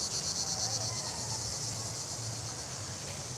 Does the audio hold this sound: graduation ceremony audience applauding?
no